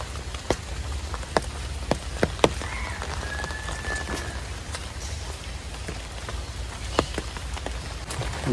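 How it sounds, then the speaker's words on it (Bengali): Steady rain falls on a brick village road gone muddy, a constant close hiss with scattered sharp drop impacts, no voices heard. "বৃষ্টির স্পিড বাড়তে আছে আস্তে আস্তে।"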